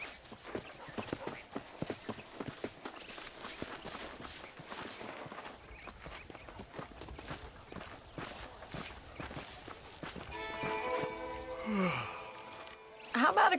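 Horse hooves clip-clop in a steady walking rhythm in the Red Dead Redemption game, close and moderately loud for most of the stretch, with a few other game sounds rising near the end.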